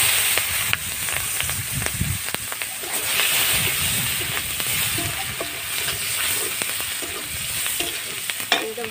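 Panch phoron, dried chillies and onion frying in fish oil, heard as a close, continuous crackling sizzle with stirring scrapes and occasional spoon knocks against the pan, no voices.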